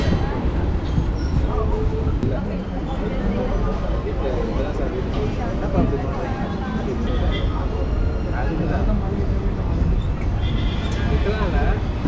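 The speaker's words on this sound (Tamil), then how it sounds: "இப்போ ட்ரெயின் வந்து பெருங்குளத்து ரயில்வே ஸ்டேஷனுக்குள்ளே என்ட்ரி ஆகுது" A suburban MEMU electric train pulls into Perungalathur railway station, giving a steady, loud, continuous rumble of wheels and carriage noise with no break throughout.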